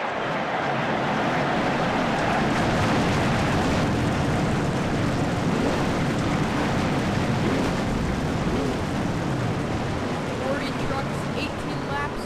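A field of 40 race trucks fires up at Auto Club Speedway in Fontana in a truck racing series, forming a dense, loud, unbroken engine roar throughout, with no distinct individual engines standing out.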